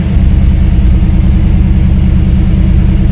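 Engine idling steadily at about 1100 rpm after a repair that fixed hard starting, a loud, close, constant low rumble with an even pulsing rhythm and no talk.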